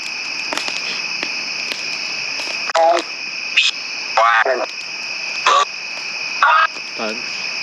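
Bugs chirping outdoors at night: a steady, high, continuous chirring drone, overlaid by several brief, muffled, voice-like bursts.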